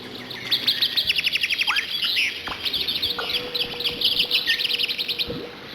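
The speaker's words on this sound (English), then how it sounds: "Did they inject my ears with birds?" A dense chorus of loud birds in the Alone in the Dark video game, with rapid trilling runs and scattered squawks layered over each other, continuous and close, with a few low thumps underneath and nobody speaking.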